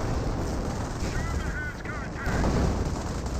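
Gunfire and explosions thunder through a Company of Heroes battle, dense and continuous, with the rumble and crackle of rifles, machine guns and artillery over a loud, unbroken din.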